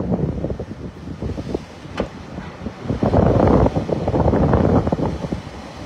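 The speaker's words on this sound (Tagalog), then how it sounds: "Sobrang lakas ng hangin." Strong wind of Typhoon Uwan at its height: loud, gusting broadband roar buffeting the microphone, swelling stronger in the second half, with no voices.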